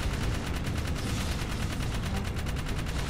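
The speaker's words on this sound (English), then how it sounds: "It's firing lasers." Rapid laser fire from an enemy in Jak 3, a dense, continuous stream of fast pulsing shots that stays loud throughout with no pauses and no talking.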